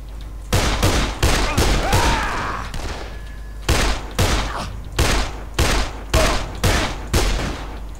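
Gunfire in the video game Dead Island: loud bursts of rapid shots, one long volley followed by a steady series of short, evenly spaced bursts separated by brief pauses.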